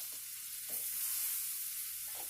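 Chopped mushrooms sizzle in melted brown butter in a pan, a soft, steady frying hiss with a few brief stirring scrapes, faint and close.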